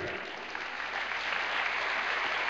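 A church congregation claps together as an offering of applause to the King during a Spanish-language sermon, a steady, full roomful of hands that builds slightly and continues unbroken throughout.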